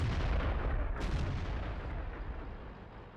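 A gunshot in a tank video game, a single heavy boom followed by a low rumbling tail, fairly quiet and standing alone.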